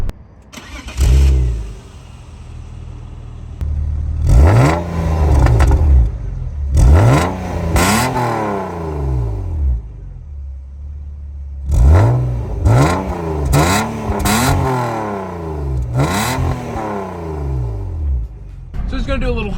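A BMW E36 engine is revved repeatedly, each blip rising and falling in pitch in bursts separated by short idle gaps, loud and close, with someone talking over parts of it.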